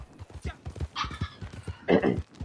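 A horse in Red Dead Redemption 2 plods along with steady, close clip-clopping hooves on the ground, a couple of brief whinny-like snorts breaking through the rhythmic steps.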